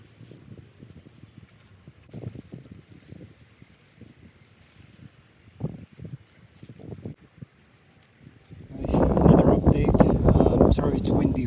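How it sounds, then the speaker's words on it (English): Outdoors in a garden bed, wind buffets the microphone in soft gusty thumps, then swells into a loud, sustained rumbling roar for the last few seconds. "Sorry, it's windy right now"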